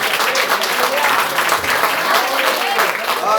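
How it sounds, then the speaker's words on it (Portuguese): A church congregation at an anniversary celebration claps for Jesus, steady loud rhythmic applause filling the room with voices faintly mixed in. "Vamos aplaudir Jesus bem forte."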